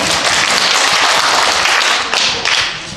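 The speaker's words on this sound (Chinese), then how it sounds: "来，鼓掌一下，鼓掌一下。" An audience at a Christmas party gives a steady round of dense clapping that continues loudly for about three seconds, with no voices above it.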